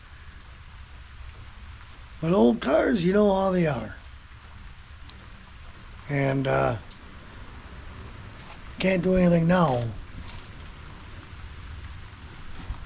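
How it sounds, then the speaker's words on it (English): Steady rain falls outside, a soft continuous hiss running throughout while someone talks in a few short bursts over it. "because it's raining."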